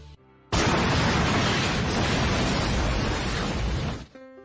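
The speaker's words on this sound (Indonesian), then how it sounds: "kamar itu pun meledak" A grenade blows up inside a room in an animated detective story, a loud sudden blast that stays as a dense roaring rumble for several seconds before cutting off.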